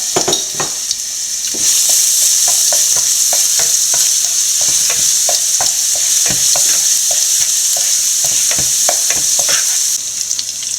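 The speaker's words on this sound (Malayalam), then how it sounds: "അടുത്ത വെളുത്തുള്ളിയും ഇഞ്ചിയും കൂടെ ചതച്ച് വെച്ച് ഇട്ട് കൊടുക്കാം" Crushed garlic and ginger sizzle loudly and steadily in a hot pan, with repeated scraping and tapping of a spoon stirring throughout.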